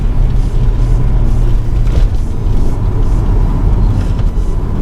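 Volvo S60R AWD with a 340 bhp turbocharged engine accelerating, a loud rumbling cabin drone broken by brief dips at gear changes around the two-second mark, no voices.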